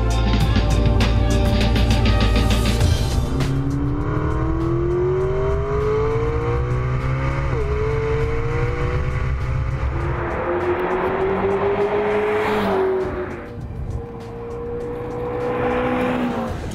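A McLaren 12C sports car engine drives at high revs, loud and close, with a sustained roar that rises in pitch through gear changes and eases off near the end.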